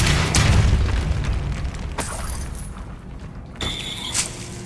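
A Depulso spell goes off in Hogwarts Legacy as a loud, booming magical blast with a rumbling tail, followed by sharper burst-like effects over a continuous game backdrop.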